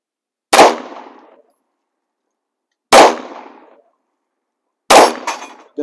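Three sharp, loud Yugo M-57 pistol shots ring out at an outdoor range, spaced a couple of seconds apart, each with a short decaying echo and the last followed by a faint metallic clang.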